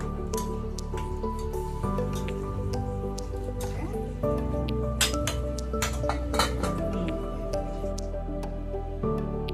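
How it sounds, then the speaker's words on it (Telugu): Mushroom curry with curry leaves simmers in a pan over a low flame, making soft, irregular bubbling pops and wet squishes over a steady low background hum. "మధ్యలో ఉడుకుతుంది. అది చాలా బాగా ఉడుకుతుంది, కుక్ అవుతుంది"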